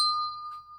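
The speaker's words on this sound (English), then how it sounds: "I love that bell." A single clear, bright bell-like ring during an imperial stout beer tasting, struck once and fading over under a second, heard alone.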